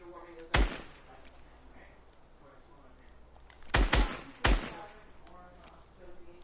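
Three sharp gunshots from the video game Fortnite, one near the start and a quick pair followed by another later, loud and close against a quiet background.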